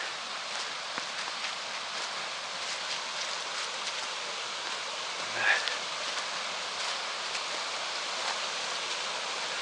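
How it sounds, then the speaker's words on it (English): A small mountain creek, Friday Creek in the Similkameen Valley, flowing with a steady broadband rush, close and continuous, with one faint brief click partway through. "Beautiful little creek."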